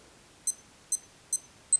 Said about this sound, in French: il y a un bip qui te montre que tu es sur l'heure.